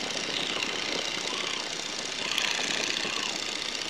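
Light training airplane engine droning steadily in flight during a first flying lesson, a loud continuous roar with no talk over it.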